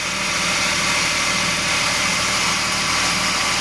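A restored Suzuki engine with new pistons and rings idles smoothly as it warms up, an even, steady hum close by with no misfires or talk.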